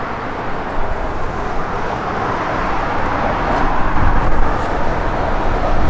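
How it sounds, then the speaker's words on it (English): A 1987 Chevrolet C10 pickup's engine with new dual exhaust gives a steady, loud rumble with broadband road-like noise that builds slightly toward the end, no voices. "It's got great sound, new dual exhaust on it."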